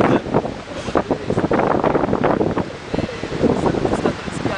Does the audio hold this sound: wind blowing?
yes